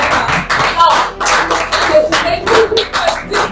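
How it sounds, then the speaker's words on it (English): Audience applause at a parenting bootcamp in Lagos, heard as several short bursts of clapping that come and go, with brief voices and whistle-like sounds mixed in. "applause is for the answer you gave"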